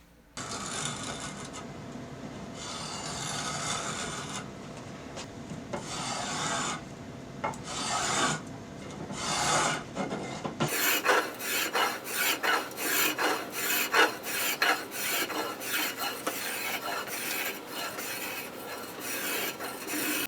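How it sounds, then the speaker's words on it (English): A Shinto rasp shapes a wooden guitar neck: a steady rough grating scrape, then from about halfway a fast run of rhythmic back-and-forth rasping strokes, close and loud, with no voices. "I go for that final shape with the Shin2 rasp"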